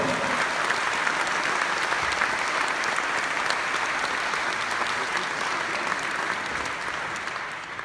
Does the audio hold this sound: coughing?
no